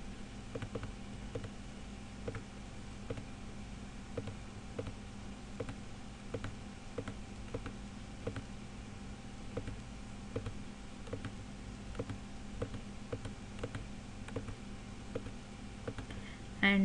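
Keys tapped one at a time at a slow steady pace, entering a registered email ID on a keyboard to log in, quiet and close, no talking.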